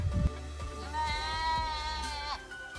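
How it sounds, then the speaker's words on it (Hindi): A mixed herd of goats and sheep in the hills around Chakrata, one loud, close, sustained bleat after a brief low rumble, with faint background noise. "इस झुंड में बकरियां भी हैं और भेड़ें भी"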